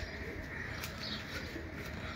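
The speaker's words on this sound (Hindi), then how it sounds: "उस्ताद रफ़ीउल्लाह खान साहब की छत पे आठों कबूतरों को मोहर लग गई है" Racing pigeons coo softly on a loft rooftop in Karachi, several faint repeated calls set against a steady outdoor hiss of distant city noise.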